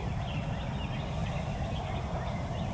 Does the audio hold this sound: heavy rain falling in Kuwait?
no